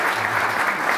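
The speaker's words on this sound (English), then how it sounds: "just a round of applause for our wonderful panel" An audience at a Lowy Institute poll panel launch event in Sydney applauds, a dense, steady wash of clapping from many hands filling the room for a moment.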